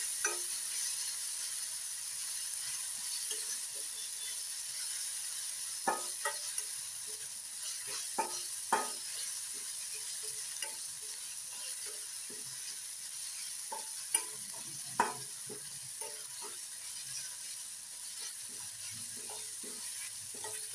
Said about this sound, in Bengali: এটাকে আমি একটু ভালো করে কষাবো, যাতে আদা রসুনের কাঁচা গন্ধটা